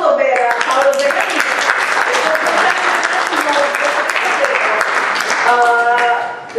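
Audience applause for Paolo Zeccani at an Italian book presentation, steady dense clapping from a room of listeners lasting several seconds before tapering off at the end.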